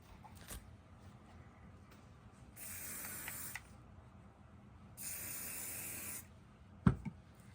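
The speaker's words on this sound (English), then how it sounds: "So we're going to hairspray it, so it all stays underneath like that." Two bursts of hairspray from an aerosol can misting over doll hair tucked under a bonnet, each hissing spray lasting about a second and close by, with a short sharp knock near the end.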